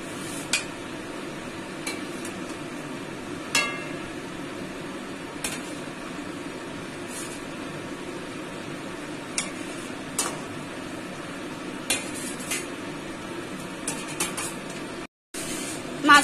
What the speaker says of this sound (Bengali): ঝোলটা আমাদের ফুটে এসছে, এবারে মাছগুলো একটা একটা করে দিয়ে দিচ্ছি